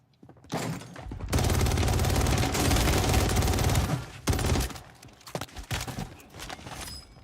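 Rapid bursts of gunfire from a video game weapon, a dense stretch of sustained automatic shots followed by shorter scattered volleys, fairly close and loud.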